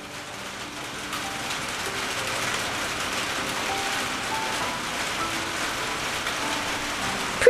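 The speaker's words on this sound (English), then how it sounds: "So it's like rain on a tin roof." Steady, dense rain drums on a tin roof over a back porch during a thunderstorm, a loud continuous hiss and patter filling the whole stretch with no talk, ending in a sharp knock.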